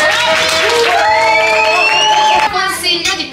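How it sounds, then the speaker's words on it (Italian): An audience at an illustrators' tournament semifinal applauds, mixed with loud cheering, whoops and high, whistle-like shouts. The crowd stays loud and busy, with a brief dip near the end. "un applauso"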